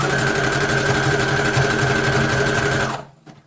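Electronic craft cutting machine running at home for a Christmas tree decoration project, a loud steady mechanical whirring hum that cuts off abruptly near the end, leaving near silence.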